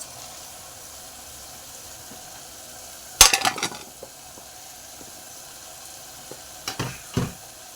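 Boiled lung dropped into a pan of sautéed capsicum (bell pepper) gives a sudden loud sizzling burst with stirring clatter, fading to a low background, then two shorter sizzling bursts near the end; no talking.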